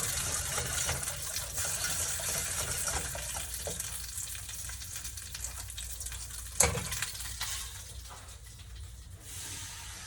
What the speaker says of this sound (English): Put just a little bit of water in that pan so they can steam those green beans a little bit.